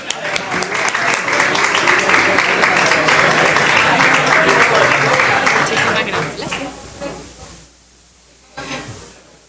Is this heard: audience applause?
yes